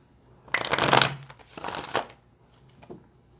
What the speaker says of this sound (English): I'm going to start by shuffling the deck for you.